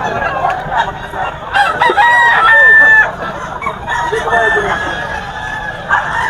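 Roosters crowing repeatedly at a busy chicken market in Grotto, Bulacan, several loud nearby crows overlapping amid clucking and crowd murmur, with people talking in the background.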